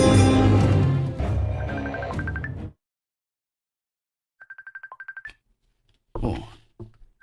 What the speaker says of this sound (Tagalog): may bagting akong cellphone.